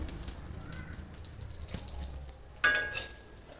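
Chop fritters frying in hot oil give off a faint, steady sizzle, broken by a brief sharper clatter near the end.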